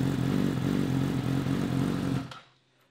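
A Yamaha motorcycle engine idles steadily and loudly close by just after cranking, then shuts off and fades to near silence.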